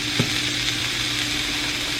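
Food frying in a pan gives off a constant, dense hiss and crackle that holds steady throughout, with one faint knock near the start and no voices.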